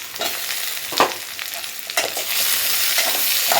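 Tomatoes and tamarind frying in oil, a dense crackling sizzle with spoon stirring strokes near one and two seconds, the frying growing steadier and fuller toward the end, no voices.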